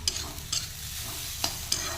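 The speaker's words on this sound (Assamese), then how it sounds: "সেইকাৰণে অকণমান ভাজি থ'লে ভাল হয়।" Grated coconut is fried and stirred in a pan for pitha: a few quick scraping strokes of a spoon cut through a soft, low sizzle, close up and without speech.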